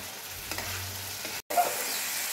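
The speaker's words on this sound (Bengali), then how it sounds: "এটা একটু কষে নিতে হবে ভালো করে, তারপরে আমি সিদ্ধ করা মটরটা দিয়ে দেব।" Spices for Bengali ghugni sizzle and fry in hot oil while being stirred in a pan, a steady close hiss with scraping stirs and a brief pause.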